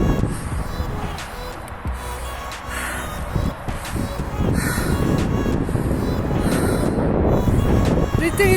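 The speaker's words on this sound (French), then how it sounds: "Je sais pas si on m'entend avec le vent." Strong wind buffeting a microphone outdoors near twin slag heaps, a loud continuous rumbling roar that swells louder in the second half, with a few faint bird calls heard above it.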